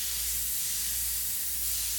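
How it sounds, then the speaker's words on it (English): An airbrush sprays gray paint in a steady, close, continuous hiss with no breaks or voices. "Just spray it like that's the beauty of the airbrush"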